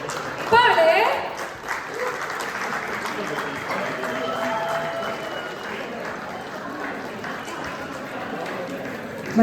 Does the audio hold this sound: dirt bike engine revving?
no